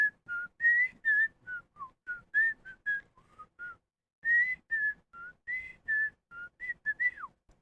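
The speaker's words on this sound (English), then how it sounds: "Can you whistle?" A person whistles a bright, wavering tune in short separated phrases with brief pauses, close and clear with no talking over it, recorded in a full-time family RV.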